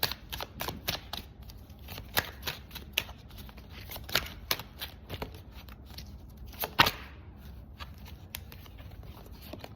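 Tarot cards are shuffled by hand in quick, irregular bursts of crisp riffling and slapping, close and fairly loud, with no talking.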